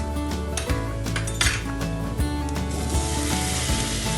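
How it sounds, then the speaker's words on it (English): Potatoes go into a pot of browned onions for Kerala mutton stew, with clattering pot and utensil clinks over a low sizzle, close up, and no talking. "It's time to add the potatoes."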